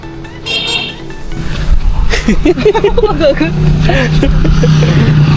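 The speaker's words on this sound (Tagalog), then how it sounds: "Ay, may sasakyan." A car rolls past on a road during a beach day trip in Elyu, its engine rumble rising and lingering close by while people talk loudly over it.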